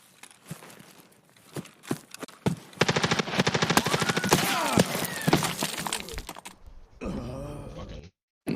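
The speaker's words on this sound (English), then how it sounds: "I can hear that it was an M4 that was shooting him." Simulated M4 rifle firing 5.56 rounds in a video game: bursts of sharp, fast shots in a tight rhythm, with a few scattered single reports before them and a brief pause near the end.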